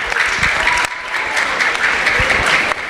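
An audience at a school alumni panel breaks into loud, sustained clapping that fills the room evenly for the whole stretch, with a few sharper nearby claps standing out.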